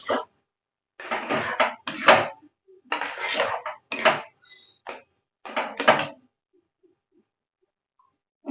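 Olive pickle made with ripe olives is stirred in a pan over medium heat, giving repeated scraping, clattering bursts of about half a second to a second each, separated by short pauses and ending in a longer quiet stretch.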